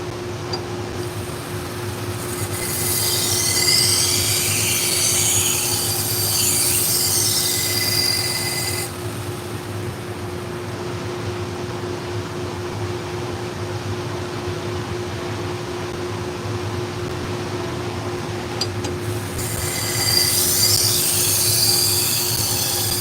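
A knife blade with small notches grinds on a powered sharpener, producing harsh bursts of high-pitched grinding over a constant motor hum, one long pass followed by a shorter one later.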